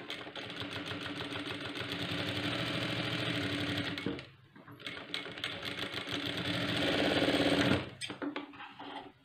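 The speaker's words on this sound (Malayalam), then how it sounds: "എല്ലാം ഡബിൾ സ്റ്റിച്ച് ചെയ്യണം." Electric sewing machine stitching a blouse front, a rapid close mechanical whirring that runs steadily, stops briefly, then resumes and speeds up before cutting off.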